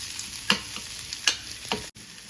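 A spoon stirs millet dosa batter made with smashed green chillies, giving three or four distinct wet scraping strokes at an uneven pace, close and fairly loud, with no talk.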